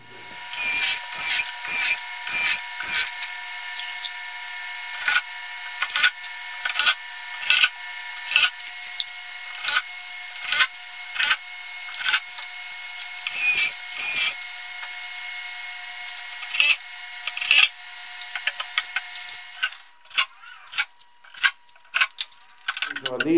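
Hand sanding of a wooden cabinet for a room divider build, heard as a long series of close, scratchy rubbing strokes in an irregular rhythm over a steady faint hum, no voices.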